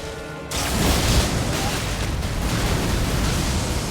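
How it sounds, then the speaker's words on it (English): An explosion erupts in Elden Ring inside a dungeon on the Consecrated Snowfield, a sudden loud boom that opens into a sustained, roaring wash of noise lasting several seconds. "We just wait for those explosions and we can go back in."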